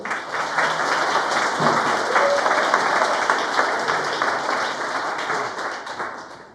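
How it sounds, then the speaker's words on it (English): An audience at a computer graphics conference applauds to welcome a speaker on stage, a steady, dense wash of many hands clapping that holds for several seconds, then slowly thins and fades toward the end. "let's have a round of applause and welcome Vladimir"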